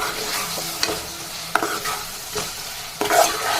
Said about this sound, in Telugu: ఇప్పుడు ఇందులో one and half table spoon కారం పొడి వేసుకున్నానండి మొత్తం ఒకసారి కలుపుకుందాం